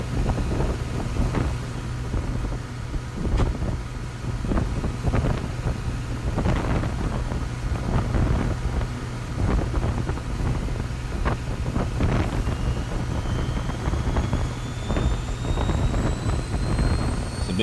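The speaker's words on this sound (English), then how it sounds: "Alright, APU's firing up." An airliner's APU runs steadily in the flight simulator X-Plane 12, a continuous roaring engine drone with windy rumble and a faint rising whine, heard from outside the aircraft without talk.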